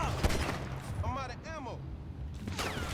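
Rapid gunfire crackles through a short scene, with bursts of shots mixed under a person talking and a brief laugh-like vocal sweep.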